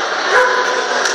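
A dog barks and yips continuously at close range during agility training, a dense, busy stretch of excited canine vocalizing with no pauses.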